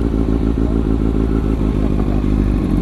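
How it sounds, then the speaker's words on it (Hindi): A motorcycle engine idles loudly up close at a parking area, its steady, rapid thumping pulse running unbroken throughout. "तो अभी हम लोग ने सबने इधर बाइक पार्क कर दिया है"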